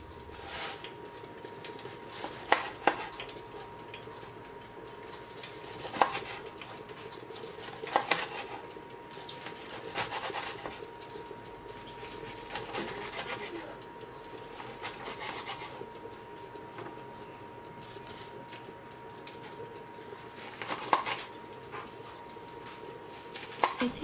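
A knife cuts through crispy roast Peking duck. Faint crackles and scrapes come irregularly over about twenty seconds, with sharper cuts now and then against a quiet kitchen background, and no speech.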